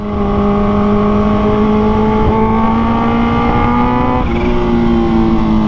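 A supercharged 2023 Kawasaki H2 Carbon motorcycle engine revs loudly close by, its whining tone climbing steadily in pitch before dropping briefly and rising again.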